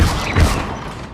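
The Incendio fire spell cast in the video game Hogwarts Legacy: a loud, close whooshing burst with two heavy thumps, then a fading roar over about a second.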